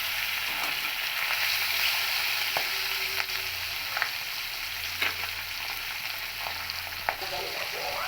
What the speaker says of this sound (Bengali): তারপর মাছগুলো দিয়ে হালকা ভেজে নেব।